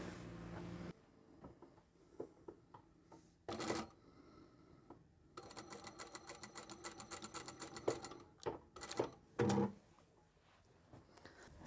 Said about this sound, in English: I'll sew down this end and all the way along here